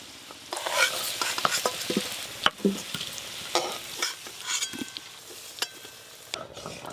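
Potatoes fry with garlic in a pan as a close sizzle, broken by repeated scraping and clattering stirs that come in uneven bursts; no one speaks.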